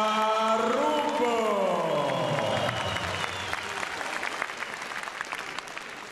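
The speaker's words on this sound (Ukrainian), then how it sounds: "Давайте поддержим его аплодисментами." Crowd applause at a WSB boxing event, loud clapping with cheers and whoops, a brief voice or horn swoop at the start, tapering gradually over several seconds.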